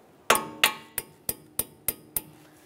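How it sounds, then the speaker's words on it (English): Seven light, crisp hammer taps strike a metal tab at close range and evenly spaced while a front ABS wheel speed sensor is replaced on a 2015-2019 Subaru Outback, each ring dying away quickly, with no voices. "Just a couple light taps there."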